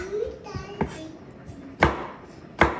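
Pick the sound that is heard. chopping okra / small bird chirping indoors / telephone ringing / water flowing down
chopping okra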